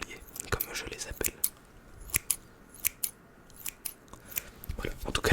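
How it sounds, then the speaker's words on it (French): Small school-style scissors snip through hair in a hairdresser roleplay, giving a rapid series of crisp, close snips with short pauses between them and soft rustling in between. "la deuxième paire de ciseaux, petits ciseaux,"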